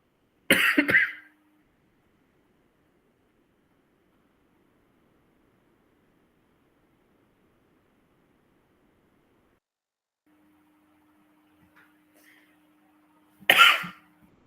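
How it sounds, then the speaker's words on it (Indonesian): Two sharp coughs from a single person, one at the start and another near the end, loud and close, with long near-silence between them. "Saya pun sedikit batuk sebenarnya."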